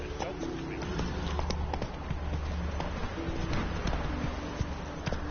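Roach, a horse in the video game The Witcher 3: Wild Hunt, gallops with a quick, steady drumming of hoofbeats over a constant background of game ambience.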